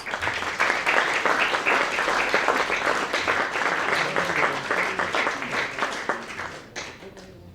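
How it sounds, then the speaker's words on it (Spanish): Audience applause welcoming a lecturer, Dr. Iwasaki, a sustained dense clapping of many hands, fairly loud, fading near the end with faint voices underneath. "le ruego un aplauso para el doctor Iwasaki"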